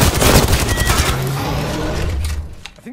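Loud rapid automatic gunfire in Apex Legends rattles in a dense burst, then fades and trails off toward the end.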